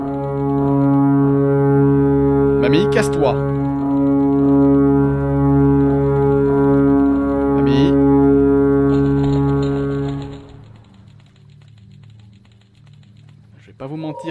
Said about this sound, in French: Mamie, corne de brume,